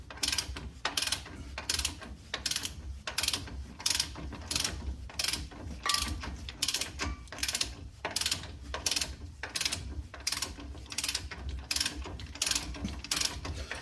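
Ratchet cranking a front suspension nut on a Chevrolet Silverado Z71 toward initial torque, repeated bursts of sharp metallic clicking in a steady back-and-forth rhythm, close up and without speech.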